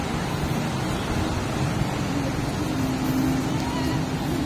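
Big ocean waves at Lingayen Beach make a dense, continuous roar of surf that never lets up, with people talking nearby over the wash.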